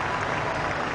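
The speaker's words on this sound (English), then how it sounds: "applause for Pavarotti" Crowd applause greeting Pavarotti's arrival at Princess Diana's funeral: a dense, steady wash of clapping that holds at an even level for the whole moment.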